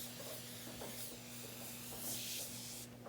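Brief hissing bursts of Scrubbing Bubbles cleaner spraying onto the soles of Crocs close by, over a faint low hum, with no talking.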